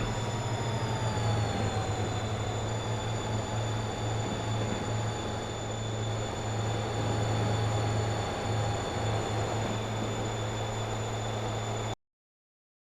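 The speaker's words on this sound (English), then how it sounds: "It's the first coal train of the day." Coal train rolling along in Transport Fever 2, a steady low rumble and drone with faint high tonal whines, continuous and fairly close for about twelve seconds before cutting off.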